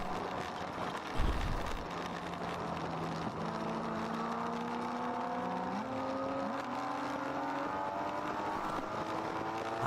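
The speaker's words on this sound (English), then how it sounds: "Rubber Soul Racing coming back into the pits in their BMW" A BMW endurance race car rolling into the pits at Beaver Run during an eight-hour ChampCar race, its engine note rising in gear-change steps at mid distance, with steady track noise underneath.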